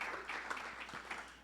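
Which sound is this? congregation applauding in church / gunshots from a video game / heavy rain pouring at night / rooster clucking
congregation applauding in church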